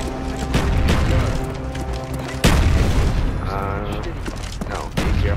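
Death Machine minigun in Black Ops, a loud sustained roar of rapid booming fire with mechanical whirring, cut by a sharp heavy burst midway and another near the end.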